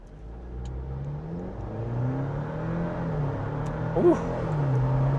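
A 2025 Jeep Wrangler Willys 4xe '41 Special Edition accelerates at full throttle from a standstill, its engine note climbing steadily and growing louder, with a brief exclamation from someone inside the cabin.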